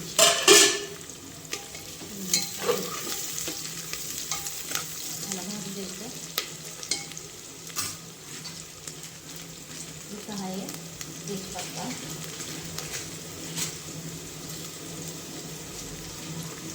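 Chopped onion fries in hot oil with cloves and black peppercorns for biryani, a continuous close sizzle broken by scraping stirs and a few sharp clinks of a utensil against the pan.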